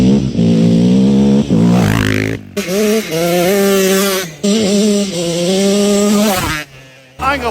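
A Raptor 250 quad fitted with a YZ125 motor and new tires, ridden hard. The engine is loud and close, and its pitch climbs and falls through repeated revs, with brief drops where the throttle is chopped.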